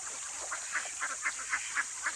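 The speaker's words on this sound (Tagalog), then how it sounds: "Ang daming itik." A group of ducks quacking outdoors near freshwater in Pangasinan, with about six evenly spaced calls standing out over a steady high hiss of background noise, moderately faint and without talk.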